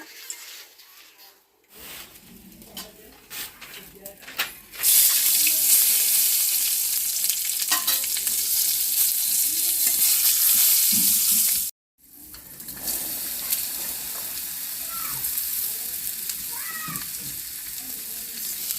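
Dried red chilies frying in hot oil in a wok for a village-style Bengali sweet pumpkin bhaji, a loud, steady broadband sizzle bursting in after quiet stirring and running for several seconds, with a brief break before continuing.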